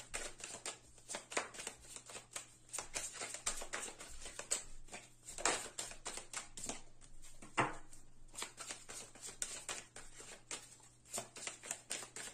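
Tarot cards are handled and drawn, giving quiet, irregular papery flicks and shuffling taps, close and soft, with no voice over them.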